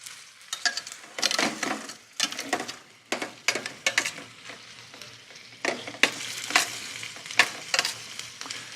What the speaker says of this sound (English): As long as you hear that sizzling, that is the moisture inherent in those pan drippings boiling.